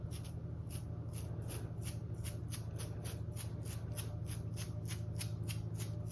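Close, rapid spatter from a thumb flicking white acrylic paint off a brush, a steady train of dry ticking flicks repeating about four times a second, steady and unbroken with no voices.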